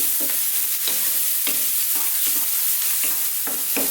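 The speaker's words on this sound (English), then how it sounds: "continuing on this high heat, again stirring all the time" Masoor dal lentil stew with spices being stirred over high heat, steady close sizzling broken by regular scraping strokes of the spoon against the pan, roughly two per second, with no talking.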